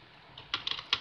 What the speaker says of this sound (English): This also is a semi mechanical keyboard, or call that fake mechanical keyboard.